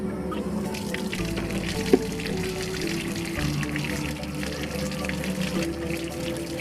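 Running tap water pours steadily into a sink while freshly picked ripe mulberries are rinsed, a continuous close splashing wash with no talk.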